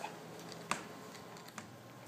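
Keys on a keyboard plugged into a Raspberry Pi are tapped at login, a few quiet, scattered clicks with one sharper press, heard close against a soft room background.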